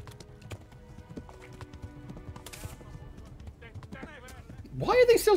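Hoofbeats of a galloping horse in the medieval role-playing game Kingdom Come: Deliverance, a steady clip-clop rhythm running through the clip and ending in a louder burst with a whinny-like cry.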